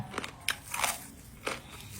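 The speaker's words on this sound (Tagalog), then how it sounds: "So, ito na yung niluto ko sa air fryer del Liempo. Titikman na natin." Air-fried pork belly (liempo) crunched at close range, a few crisp crackling bites and chews in quick succession, no voices.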